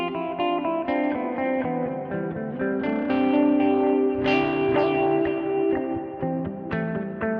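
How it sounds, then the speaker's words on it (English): An electric guitar through a Line 6 Helix plays notes whose delayed repeats blur into a thick wash of reverb, loud and sustained, each phrase swelling into a dense, echoing tail. "every one of those repeats gets drowned in this reverb"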